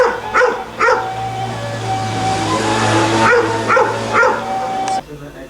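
Several sharp dog barks come in small clusters, nearby, against a continuous low engine-like hum that cuts off at the end.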